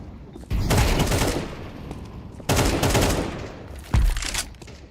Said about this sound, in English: Throwing the decoy.